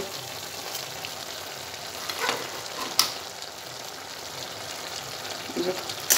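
Poppy seed paste frying in a pan for aloo posto, a steady soft sizzle with occasional stirring scrapes, fairly quiet and continuous.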